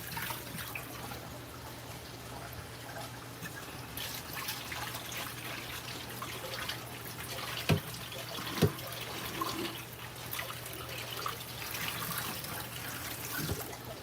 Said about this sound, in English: That's why it's important to wash your potatoes.